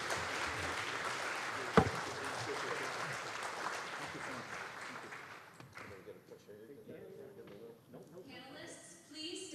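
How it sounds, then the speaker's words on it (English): An audience applauds panelists at a forum, a dense wash of clapping that fills the room for several seconds, then fades out before talk resumes. "Please give another round of applause."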